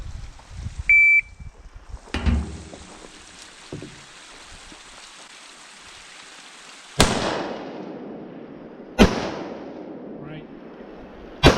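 Gunshots at an outlaw two-gun long-range combat shooting match: three sharp, loud reports spaced a couple of seconds apart, each followed by a long echoing decay across open ground, after a timer beep and faint voices.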